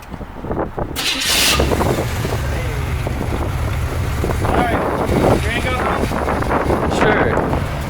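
A 1972 Corvette's engine cranks and catches while hot, then settles into a steady, rumbling idle heard close by, with someone talking briefly over it.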